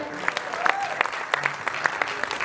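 An audience applauds a film star at a Pakistani tribute event, steady clapping with sharp individual claps standing out, close and filling the clip, with a voice speaking under it.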